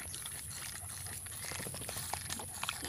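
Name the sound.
dog drinking water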